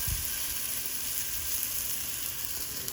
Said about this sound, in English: Ooh, love that sizzle.